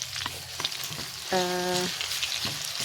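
Spice paste for a yellow sour broth sautéing in leftover oil from frying catfish, a continuous crackling sizzle with stirring scrapes and a brief tonal squeak from the pan partway through.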